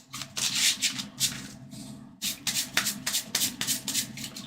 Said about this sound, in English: So let's give this a good shuffle.